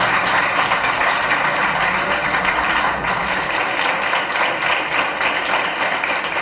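Loud, dense applause from a school prize-distribution crowd welcoming teachers, a sustained wash of clapping that carries on without a break.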